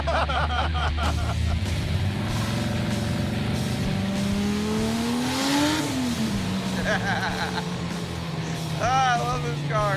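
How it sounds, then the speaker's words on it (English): A Dodge Charger's V8 engine rumbles deep and loud, swelling as it revs up and then settling back to a throaty idle, while voices are faintly heard underneath. "We have that V8 rumble that the 2JZ doesn't have."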